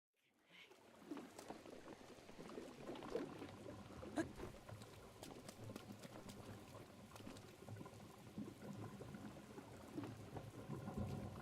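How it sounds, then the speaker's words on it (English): Rain pours steadily in Zelda: Breath of the Wild, with rumbling thunder rolling through the downpour and a few sharper crackles, all at an even, moderate level with no talking. "I swear it always rains in this game."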